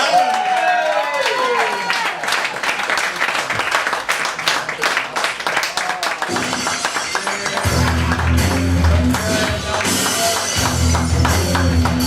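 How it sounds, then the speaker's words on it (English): A party crowd claps and cheers for a birthday guest being roasted, a loud sustained round of applause with some voices and music-like tones mixed in. "Give him a round of applause."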